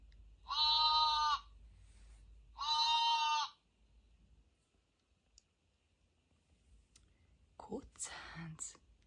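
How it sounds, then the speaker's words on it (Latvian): Two drawn-out bleats like a lamb, clear and fairly close, followed by quiet and a few soft clicks and rustles. "Jēriņš saka, mē, mē."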